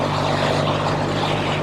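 A 1964 Triumph Thunderbird 650 motorcycle engine drones steadily while being ridden in top gear on a cold day, a continuous loud rumble with wind rush and no voices.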